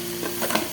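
Ginger garlic paste being sautéed in a pan for channa masala gives a short, soft burst of sizzling with a quick scrape of stirring.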